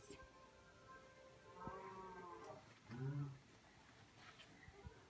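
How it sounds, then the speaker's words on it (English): A cow moos twice in a snowy outdoor setting, low drawn-out calls heard at a distance, faint against background noise. "Do you hear a cow?"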